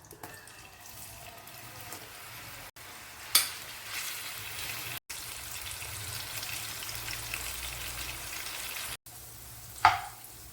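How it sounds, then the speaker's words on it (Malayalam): Prawns fry in hot oil in a pan, a steady close sizzle that continues throughout, broken by a couple of brief sharp louder bursts. "എണ്ണ ചൂടായിട്ടുണ്ട് ഇതിലേക്ക് നമുക്ക് മീനിട്ട് കൊടുക്കാം"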